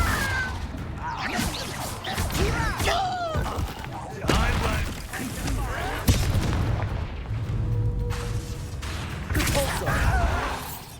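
Confringo spell blasts in Hogwarts Legacy erupt as repeated loud booms and crashing impacts, dense and close, mixed with combat effects and shouted voices across a chaotic battle.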